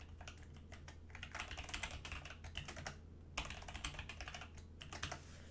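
A password is tapped out on a computer keyboard as a quick, close run of soft key clicks in irregular bursts, with brief gaps, and no voice.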